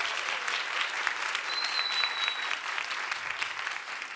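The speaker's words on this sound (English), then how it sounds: "a round of applause for my great co-host Milla" Studio audience at a science contest applauding a co-host, a dense, steady wash of clapping that holds at an even level throughout, fairly close and unbroken by speech.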